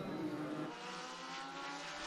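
Legend race cars racing at Atlanta Motor Speedway, engines roaring steadily as a pack pulls away, with a dense, continuous mechanical drone and no talking.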